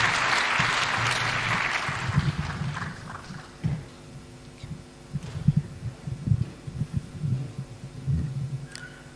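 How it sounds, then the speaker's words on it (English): Crowd applause at an outdoor political rally in Syokimau, Machakos County, Kenya, greeting an arriving cabinet secretary; a burst of clapping opens, then fades into low rhythmic thumping and a steady hum from the sound system. "We can clap for her as she's coming."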